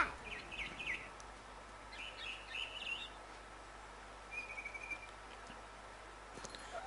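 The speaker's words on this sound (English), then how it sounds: "was a barn swallow going back to her nest" A barn swallow in the video game What Remains of Edith Finch gives faint, short chirps in a few scattered bursts over a quiet background hum.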